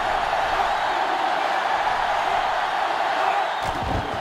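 Continuous stadium crowd noise in the NCAA Football 2005 video game, a broad steady roar that stays loud throughout, with a heavier thump and swell near the end.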